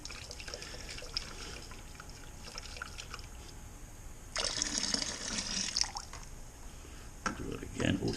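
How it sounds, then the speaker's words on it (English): Hot water splashes and gurgles into a metal beer-kit can as it is rinsed, in two short bursts of pouring against a steady background hiss, with someone talking throughout. "So we're going to rinse this can out once."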